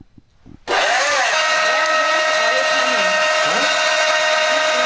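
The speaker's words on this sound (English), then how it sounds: "Start your engine." An engine turns over and catches abruptly after a quiet moment, then settles into a loud, steady high-pitched run with a strong whine that holds without pause.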